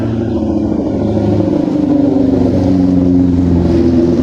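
A car engine revving, heard up close and loud as a continuous throaty drone that swells slightly and holds steady with no talking.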